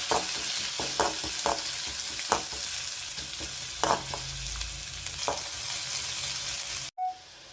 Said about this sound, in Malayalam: എണ്ണ ചൂടായി വന്നിട്ട് നമുക്ക് കടുകിട്ട് കൊടുക്കാം